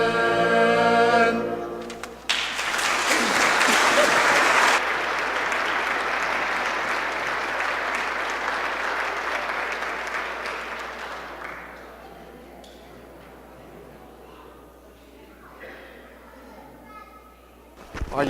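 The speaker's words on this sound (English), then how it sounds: "Let's give them another round of applause." Audience applause at a church ice cream social fills the room loudly for several seconds after a singing performance, then thins out into scattered claps and murmuring voices.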